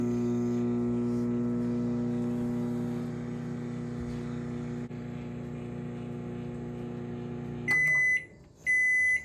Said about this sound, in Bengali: এটিকে আমি এবার দু মিনিটের জন্য গরম করে নেব মাইক্রোওভেনে আর আমার মাইক্রোওভেন হচ্ছে নশো ওয়াটের